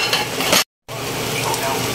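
Chicharon is stirred into a pan of sizzling monggo guisado, giving continuous frying hiss with scraping stir strokes, broken by a brief cut to silence midway before the sizzle resumes.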